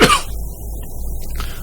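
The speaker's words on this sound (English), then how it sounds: "Sorry, I've been suffering with this cough." A single sharp, close cough bursts out at the start, then gives way to a low steady engine hum from the Euro Truck Simulator 2 truck cab.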